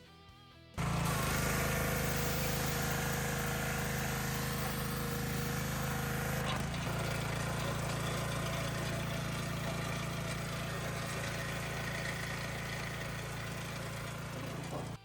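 A Karcher pressure washer driven by a Honda engine, freshly fitted with a new pump, starts up and then runs at a steady, loud, droning idle with a low rumble throughout.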